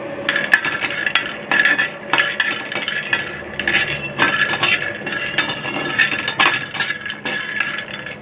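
Peanuts being dry-roasted on a hot tawa, heard as repeated clinks and scrapes of a metal utensil stirring them against the pan in an irregular rhythm.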